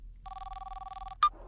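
A telephone rings while a call is being placed: a steady electronic trill lasting about a second, followed by a short sharp click as the line connects.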